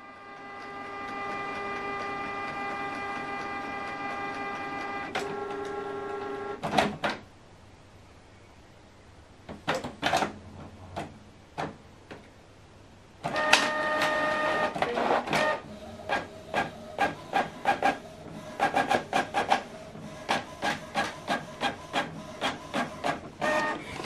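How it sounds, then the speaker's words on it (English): A Canon printer prints a single page sent from a phone. A tonal mechanical whir is followed by a pause, then a run of rhythmic clacking and feed clicks. It is close and clear, with no talking. "printing is completed"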